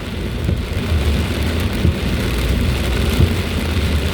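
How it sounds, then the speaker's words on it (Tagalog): Heavy rain pours steadily during a typhoon while low thunder rumbles underneath, a dense continuous wash of noise with a few brief louder swells. "Yun ang maganda sa kulog."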